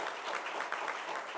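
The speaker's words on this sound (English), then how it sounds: "Let's give her a round of applause." An audience at a Black Homeownership Collaborative anniversary event in Atlanta gives a round of applause, a soft continuous patter of many hands clapping, heard faintly from a distance with no one talking over it.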